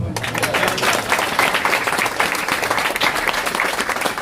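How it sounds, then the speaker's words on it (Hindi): Two young girls clap their hands at a park inauguration event, a dense, steady patter of claps running throughout like continuous applause. "वो देखो ना, 2 बच्चियां तालियां बजा रही है"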